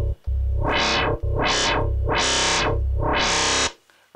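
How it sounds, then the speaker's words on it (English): A harsh, distorted wobble bass synth patch plays four loud, sustained swelling notes in a steady rhythm, each opening up bright and gritty before cutting off, with no talking. "synth patches like that can sound really kind of harsh in the mix"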